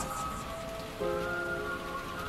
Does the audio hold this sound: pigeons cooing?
no